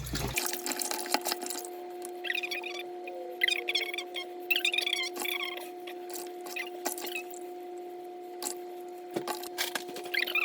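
Rice is swished and washed by hand in salted water, giving sporadic sloshing and dripping sounds at close range over a steady low electrical hum, with no talking.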